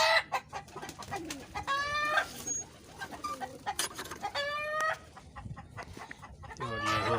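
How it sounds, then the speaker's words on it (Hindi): Native (desi) hens clucking and squawking in a backyard coop, several birds calling in short bursts with a few louder harmonic cries, close by with no talking. "ये देखो देसी मुर्गियाँ"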